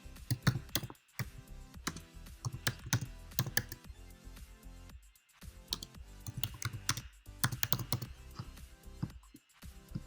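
Fingers type a file name on a laptop keyboard, a quiet, close run of quick clicking keystrokes in uneven bursts with brief pauses between words.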